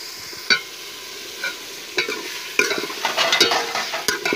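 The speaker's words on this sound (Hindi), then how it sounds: "इसके अंदर हम चिकन ऐड करेंगे, और इसे अच्छे तरीके से घुमाएंगे ताकि ये अच्छे तरीके से मिक्स हो जाए।" Chicken stirred and fried in a karahi for a plain chicken karahi, with scattered scraping stirs early, then a denser sizzle and spoon clatter building toward the end, close and fairly loud, no talking.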